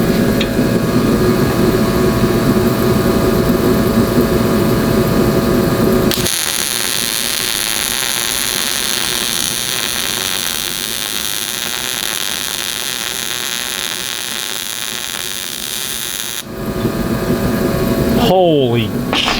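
Welding a patch over rust holes in sheet metal produces a loud, continuous crackling buzz that shifts in tone partway through, then cuts off shortly before the end, leaving a brief, quieter background.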